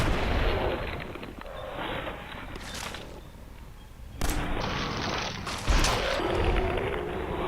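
Gunfire during a fight with a rabid mole rat in Fallout 4, with heavy booming shots and explosive blasts, one loud hit near the middle and another toward the end, over a dense rumbling bed of game noise.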